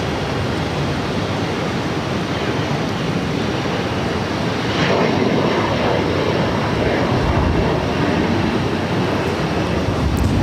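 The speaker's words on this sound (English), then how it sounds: "5653 taking off to Columbus on an E175." A Delta Connection Embraer E175 jet takes off at Boston airport, a loud steady broadband engine roar that swells slightly midway.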